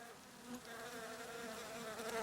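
A steady, dense buzzing of many bees, continuous and close, with no other sounds.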